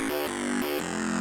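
Altered variation of a wavetable synth bass, its LFO reshaping the movement: two short pulsing notes, each followed by a longer sustained tone, heard alone.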